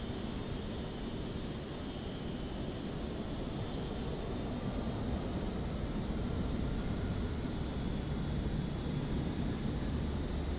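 A fixed-wing airplane flies in Microsoft Flight Simulator 2024 on PS5, giving a steady broadband engine and wind roar that holds at an even level throughout, with no voices.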